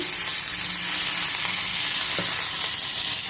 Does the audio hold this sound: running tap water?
no